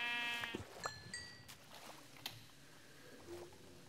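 A few faint sheep bleats from Minecraft appear against a quiet background, with soft, brief calls and some scattered clicks and small game noises, no voices.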